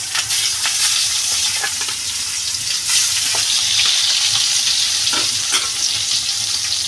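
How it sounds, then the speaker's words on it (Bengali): Eggplant slices fry in hot oil in a Bengali home kitchen, giving a steady, dense sizzle with occasional faint clinks and stirring scrapes throughout. "এবার বেগুনটা ভেজে নেব।"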